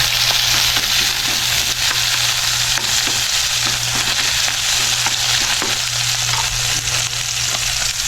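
Onion, garlic and tomato sautéing in a pan for a vegetable breakfast dish, a loud steady sizzle with stirring scrapes throughout.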